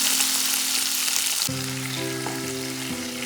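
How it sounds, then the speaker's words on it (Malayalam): Garlic and green chilies sizzle loudly in hot oil with popping mustard seeds while papaya pickle is being made, a steady close frying hiss with a few stirring scrapes. "കടുകൊന്ന് പൊട്ടി വരുമ്പോൾ അതിലേക്ക് വെളുത്തുള്ളി ഇട്ട് കൊടുക്കാം"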